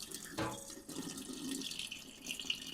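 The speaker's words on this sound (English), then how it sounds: "We're just going to pour off a little of the liquid though." Cooking liquid is poured off cooked sweet potatoes, a soft, close trickle and splash of water that runs steadily for a few seconds with no talking.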